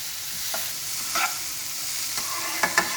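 A vegetarian shepherd's pie filling cooks in a pan with a gentle, even sizzle, punctuated by a handful of light spoon scrapes and taps, close and moderately quiet with no talking.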